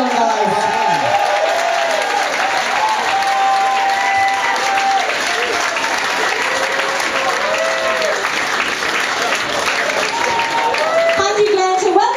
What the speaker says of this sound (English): Big round of applause for Glanton.